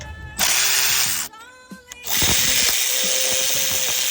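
A tool working a 12mm nut off a bracket in the engine bay of a 2009 Lexus ES350 during a spark plug and coil pack job, with loud sustained buzzing runs broken by a short pause of clicks and clatter.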